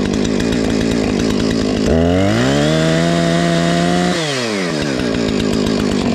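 Chainsaw started before felling a big tree, idling loudly and then revving to a high, sustained whine for a couple of seconds before dropping back to idle, close and alone.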